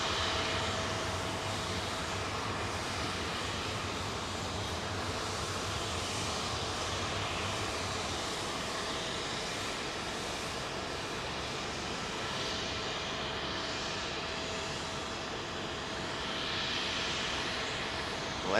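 Airbus A380 airliner coming in to land at London Heathrow, a steady distant engine roar and whine held at an even level throughout, with no voices.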